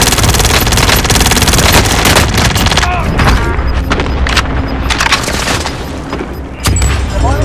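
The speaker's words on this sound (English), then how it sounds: "Good copy. Cluster strike away." Cluster strike explosions in Call of Duty Warzone burst in a rapid barrage of loud booms and crackling blasts, overlapping densely and then thinning out, with a short pause before a final heavy hit.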